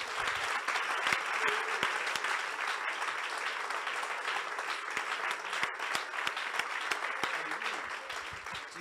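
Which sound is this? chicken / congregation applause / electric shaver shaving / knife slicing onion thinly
congregation applause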